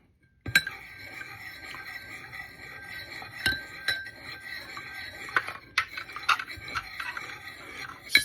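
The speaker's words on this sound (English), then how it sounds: "Stir it like it's coffee." A spoon stirs creamer into a cup of coffee, clinking against the sides in scattered light taps and scrapes, close and quiet with no talking.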